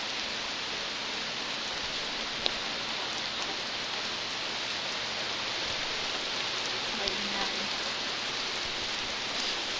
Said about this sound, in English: Do you like the sound of rain?